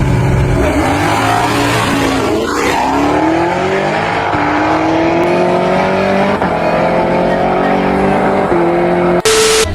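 A Camaro ZL1 and an old Chevy truck street racing, loud engines revving and climbing through rising pitch as they accelerate hard, with tire squeal and a sudden sharp burst near the end.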